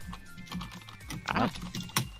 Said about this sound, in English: Typing. Sorry.